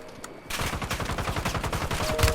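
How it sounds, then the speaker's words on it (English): After a brief quiet moment, loud rapid automatic gunfire erupts in a Call of Duty match, a sustained close burst of rattling shots. "Taking fire."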